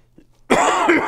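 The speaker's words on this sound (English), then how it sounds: "Excuse me while I cough." A single loud, harsh cough close to the mic, bursting in after a near-silent moment and sustaining with raspy breathiness.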